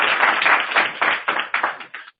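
Clapping from an audience at a political meeting, arriving in rhythmic bursts roughly twice a second, fairly loud and band-limited, ending abruptly.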